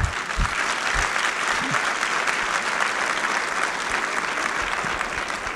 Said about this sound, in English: it's okay to applaud.